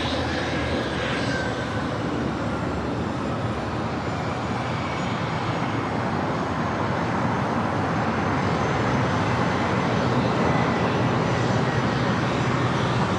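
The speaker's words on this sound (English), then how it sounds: "JetBlue Airways flight 1773, A321 going around here on the south side" JetBlue Airways Airbus A321 jet going around on the south side at LAX, a continuous loud broadband engine roar sustained throughout with a slowly shifting whine, no talk.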